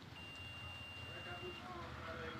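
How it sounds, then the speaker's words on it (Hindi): A multimeter gives a steady, high continuity beep for about a second and a half while testing a shorted capacitor on a Redmi 7A phone board, faint under background noise and a voice. "मैं आपको फिर से देख सकते बीप का आवाज़ दे रहा है।"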